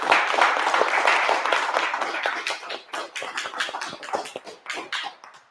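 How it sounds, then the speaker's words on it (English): An audience applauds at a mansion event in Orlando, dense clapping from many hands close by, steady at first and then thinning into scattered claps toward the end. "Give yourselves a round of applause for showing up."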